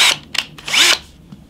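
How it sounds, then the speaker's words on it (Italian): Power drill boring holes for a recycled light garland craft project, heard in a few short close whirring bursts with brief pauses between them. "E allora prendiamo il trapano"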